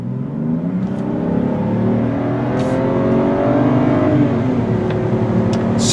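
A gray 2008 BMW 528xi all-wheel-drive sedan with a 6-speed automatic pulls hard from inside the cabin, a loud steady engine drone with rising tones stepping through smooth shifts, no talking.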